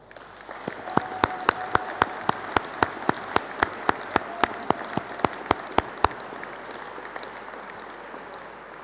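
Applause from a graduation ceremony audience, steady and moderately distant, with sharper individual claps popping out at a regular pace above the crowd's soft patter before it thins out toward the end.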